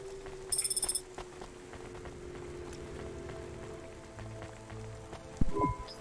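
Rain falling over a city street in the video game Cloudpunk, a soft steady patter with a brief electronic chime at the start and a low thump near the end.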